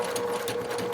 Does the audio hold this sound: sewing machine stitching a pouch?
yes